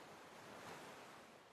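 Ocean surf washing ashore at night along a bay, a steady broadband roar of breaking waves with a slow swell in loudness, fairly close and continuous with no voices.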